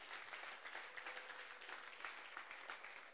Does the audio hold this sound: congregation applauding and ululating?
yes